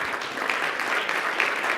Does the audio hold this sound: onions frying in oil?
no